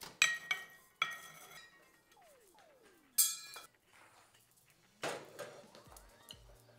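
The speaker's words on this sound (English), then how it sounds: "Let's break up that ice cube." Ice being cracked in a cocktail glass while mixing a whiskey drink with a sugar cube, bitters and soda water: several sharp glassy clinks and knocks in separate bursts, close and clear, with quiet gaps between.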